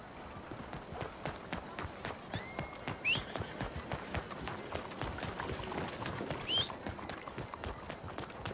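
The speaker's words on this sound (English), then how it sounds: "Cavalo" Horse hooves clip-clopping at a steady trot in Red Dead Redemption 2, a fairly quick, even rhythm of hoofbeats with a couple of brief high chirps over the top.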